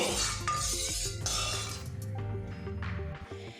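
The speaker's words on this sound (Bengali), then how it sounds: "গ্যাসের একটা লো টু মিডিয়ামে রাখবো, রেখে এটা অনবরত নাড়িয়ে এটা বেশ আরও কিছুক্ষণ ফুটিয়ে নেব" Milk stirred steadily in a pot as it boils over a low to medium gas flame, with clinks of a spoon against the metal over a constant bubbling, simmering rumble.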